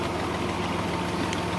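A tractor engine drives a borewell pump outdoors, holding a steady, loud idling rumble with a constant low vibration throughout and no voices.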